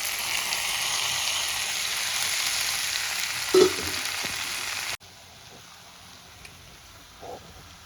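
A fried katla fish head is being sautéed with masala in a pan for a Bengali curry with elephant foot yam. A steady sizzle with stirring clatter runs for about five seconds, then cuts to near quiet with faint stray knocks.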